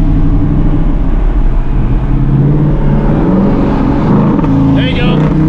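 A car engine revs hard right after a downshift, a loud, sustained roar with rising engine tones that fills the whole clip, while voices sit faintly beneath it.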